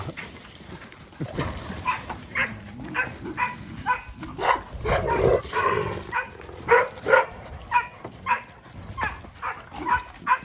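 A Kangal dog growls and grumbles in short rough bursts while playing with other dogs, with some yips and whimpers mixed in at close range and no talking.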